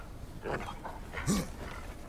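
A single short dog bark or yelp rings out amid background noise in the video game God of War Ragnarok, with brief speech-like sounds before it.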